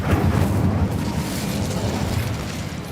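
A fiery roaring burst from the Incendio spell in Hogwarts Legacy, a dense crackling whoosh that stays loud and sustained for a few seconds with no voices over it.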